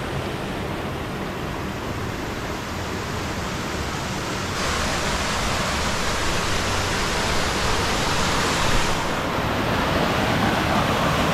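A river runs right beside a flat campsite in the Lake District. It makes a loud, steady rushing roar that swells noticeably partway through and then holds full and close, with no voices over it.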